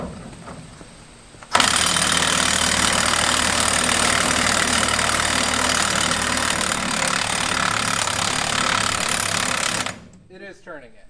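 A Snap-on electric impact wrench runs loud and continuous for about eight seconds, a dense steady hammering drone starting abruptly and cutting off, followed by brief voices.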